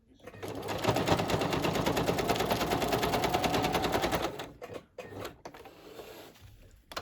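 A sewing machine stitching zigzag across fabric and paper scraps, a fast, loud, rapid mechanical rattle running steadily for about four seconds, then stopping with a few short bursts and handling clicks, close up.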